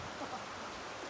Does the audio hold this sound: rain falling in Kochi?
yes